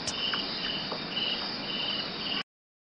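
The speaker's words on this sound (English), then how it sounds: "Sometimes we can hear the cricket chirping." Steady, continuous cricket chirping fills the clip, a high shrill trill with no voices, running unbroken until it cuts off abruptly.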